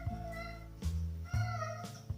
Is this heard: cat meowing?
yes